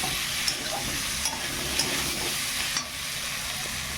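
Turmeric and chili powder are stirred into a jackfruit seed mash in a pan, giving a steady sizzle with faint scraping strokes, close and continuous, with no talk.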